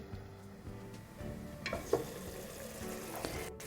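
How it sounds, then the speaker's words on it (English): A garlic spinach chicken curry cooking slowly on really low heat, a soft, steady bubbling sizzle with a few faint pops, quiet and close, without speech. "We're going to lower the heat to quite low and cook this for 40 to 45 minutes on really low heat."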